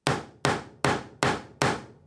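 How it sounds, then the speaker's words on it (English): Five sharp, evenly spaced hammer blows on a wooden balance board, loud and close, each ringing briefly before the next. "just go ahead and give it a couple more taps."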